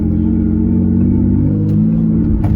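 Engine rumble from a 2003 Mitsubishi Eclipse GTS on a drive, a loud, steady low drone inside the car with a slight shift near the end as the gas is let off.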